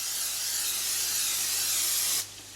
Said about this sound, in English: Now I'm going to spray my pan.